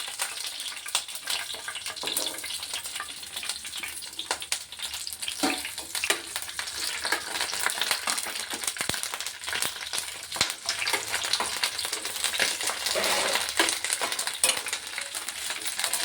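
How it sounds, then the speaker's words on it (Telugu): Green chillies fry in hot oil, giving a continuous close crackle and sizzle with bursts of spitting and occasional stirring scrapes. "పచ్చిమిర్చిని దోరగా వేగనివ్వాలి ఫ్రెండ్స్"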